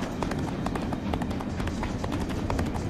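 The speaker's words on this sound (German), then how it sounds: "Da laufen Pferde neben dem Wagen." Horses gallop beside a wagon in the video game This Land is my Land, a steady rapid drumming of hooves over rumbling wheels and ambient noise, with no talking.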